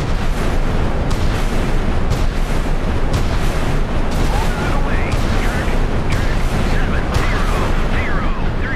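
Warships in a naval video game firing rapidly, a loud, regular series of booming shots about once per second with crackling bursts and whooshing trails, while someone talks over them.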